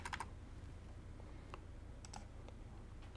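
Keys tapped on a computer keyboard while entering a password: a quick burst of clicks at the start, then a few sparse, isolated keystrokes, close and fairly quiet over a low steady hum.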